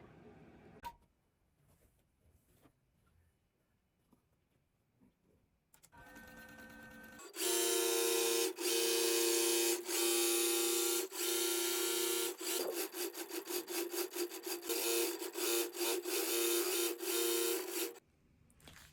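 A Gammill longarm quilting machine stitches out a row of quilting, starting after a stretch of quiet with faint clicks and running loud and continuous with a rapid, steady needle rhythm before stopping abruptly.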